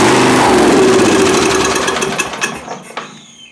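A Snapper lawn mower engine, carburetor just cleaned, catches on a squirt of starter fluid and runs loud and rough for about two seconds before sputtering out into a few fading coughs.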